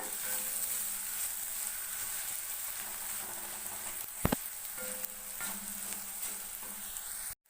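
Small onions with salt are sautéed in a pan, a continuous close sizzle and frying hiss with the light scrape of stirring and one sharp knock partway through, ending abruptly, with no talk.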